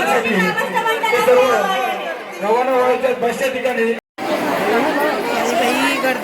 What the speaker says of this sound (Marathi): बघा पूर्ण खूप गर्दी